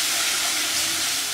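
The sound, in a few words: stirring and frying egg curry masala in a pan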